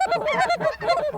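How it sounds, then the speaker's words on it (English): A white goose honks repeatedly at close range outdoors, a rapid series of loud nasal calls in an uneven rhythm. "Wally, that white goose right now."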